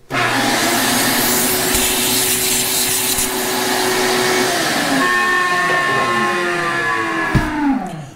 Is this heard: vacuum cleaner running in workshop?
yes